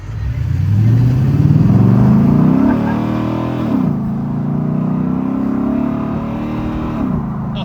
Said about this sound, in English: I wanna hear my intake, bro.